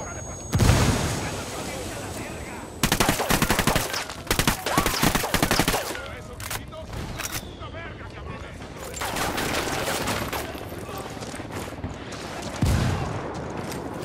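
Frag grenade blasts and heavy gunfire sound out in the Ghost Recon Wildlands video game: a sharp boom, then long bursts of rapid automatic fire, further volleys later and another thumping explosion near the end, loud and close.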